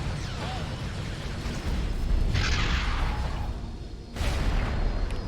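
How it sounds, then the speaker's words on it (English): Concussion missile launchers firing in the space game X4 with a Star Wars A-Wing ship, booming launches and whooshing bursts over a constant heavy engine rumble, two loud surges of blast noise. "And there goes concussion missile launchers."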